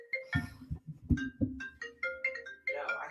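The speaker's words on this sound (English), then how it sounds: "My phone was ringing." A mobile phone ringtone plays a repeating electronic melody of bright, steady tones at moderate volume, with low thumping notes underneath.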